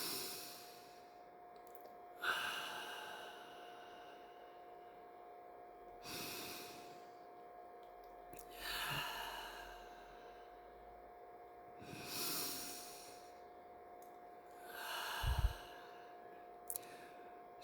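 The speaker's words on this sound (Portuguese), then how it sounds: "E respirando 3 vezes, puxando sempre pelo nariz," Slow deep breaths, drawn in through the nose and let out through the mouth, in a calm meditative exercise; about five airy breaths spaced a few seconds apart, close and soft, with no talking.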